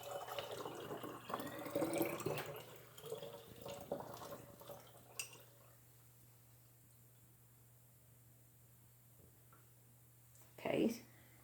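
Liquid and grains are poured into a strainer, giving a splashing, trickling rush over the first few seconds that fades into quiet, then a short clatter near the end.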